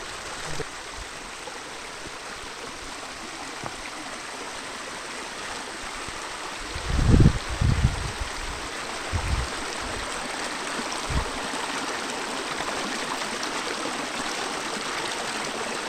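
Steady rushing of a rain-swollen stream in the Konkan monsoon, constant and moderately close, with a few brief splashes and gurgles partway through.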